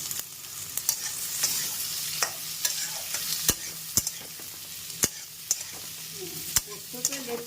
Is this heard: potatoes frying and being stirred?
yes